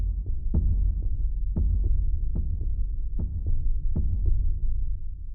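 Timpani from an orchestral sample library played on the D and E to mimic a heartbeat: deep, booming paired thumps repeating at a steady pulse, loud and close with no other sounds.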